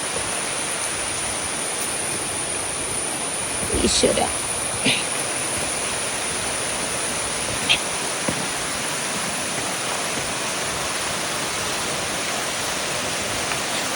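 A waterfall roars steadily along a forest trail on the Choorathala trek, a constant broadband rush filling the scene, with a brief voice and a few short knocks near the middle.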